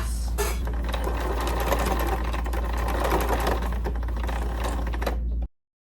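A sewing machine runs a seam on a small doll petticoat with a continuous, fast mechanical chatter over a steady low hum, then cuts off abruptly just before the end.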